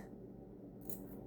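A single quick snip of scissors cutting the edge of craft material, soft and close in a quiet room.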